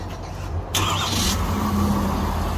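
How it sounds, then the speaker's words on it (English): A pickup truck's engine cranks and catches at a moment's notice, the mid-pitched motor then settling into a steady idle close by, with no talk over it. "right as it did that, that truck started up"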